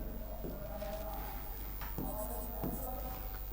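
Pen or chalk writing out words for a Hindi synonyms lesson, a steady scratchy stroking that runs throughout with a few firmer strokes, under a constant low background hum.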